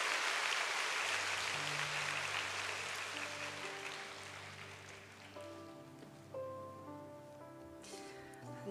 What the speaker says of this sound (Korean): 나오실 때 따뜻한 박수 부탁드립니다